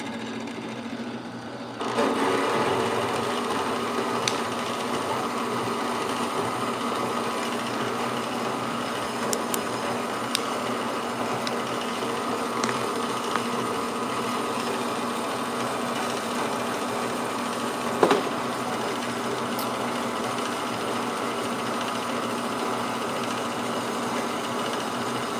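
Welding a chain bridge for a 1984 Cutlass gives a loud, steady, crackling buzz that runs unbroken for about 25 seconds, close up, with no talking.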